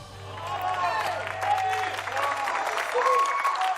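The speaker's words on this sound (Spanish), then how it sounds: "¿No podían aplaudir más fuerte?" Concert audience applauding a vocal quartet performance, sustained dense clapping from a crowd at steady volume, with a low hum underneath.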